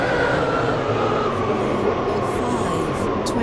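A Class 720 train in the Stepford County Railway game runs from Stepford Central toward Whitefield, a steady, loud interior rumble and hum with no pauses or talk.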